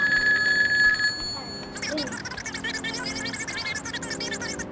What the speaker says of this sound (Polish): Telefona!